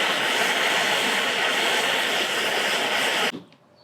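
A torch roars in a loud, steady hiss while heating a bolt on a Jeep Wrangler TJ, then cuts off abruptly near the end, leaving quiet.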